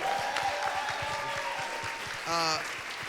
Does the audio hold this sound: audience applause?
yes